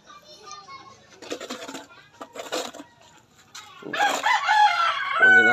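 A pet chicken clucks and crows nearby, with a voice chattering in the background and the calls growing louder toward the end.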